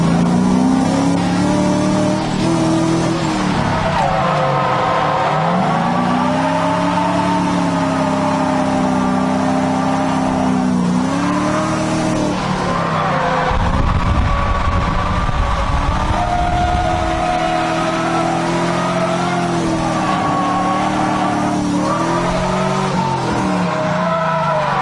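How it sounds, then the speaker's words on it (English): An FC-engined race car runs loud and ragged at speed, its engine note wavering and sagging as if fuel is cutting out, with tire noise and rough surges throughout. "My car's not running right. It's like fuel cutting or something."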